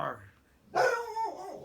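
A dog barks once loudly and close, a sharp bark trailing into a short whine, following a moment of speech from a person nearby.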